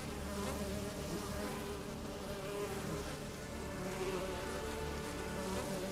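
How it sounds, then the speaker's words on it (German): A bee swarm buzzes in The Witcher 3, a dense continuous hum that holds steadily loud throughout with no pauses. "hier ist schon wieder irgend so ein Bienenschwarm"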